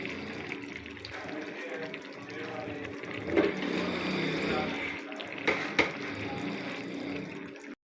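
A full cup of cooking oil poured into a karahi pan for mutton karahi, a steady liquid stream and splash lasting several seconds with a couple of sharper clunks.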